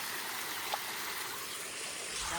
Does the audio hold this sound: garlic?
no